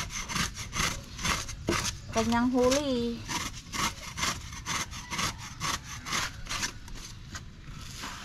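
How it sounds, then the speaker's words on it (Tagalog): A caught sailfish being scaled: a steady run of close, rhythmic rasping scrapes, stroke after stroke, with voices talking over and between them. "Kinakaliskisan na po."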